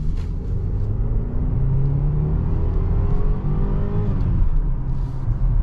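A 2023 BMW X3 30i with a 2-liter turbo four-cylinder accelerates from inside the cabin, a steady low engine drone rising gradually in pitch through the gear, with a shift near the end.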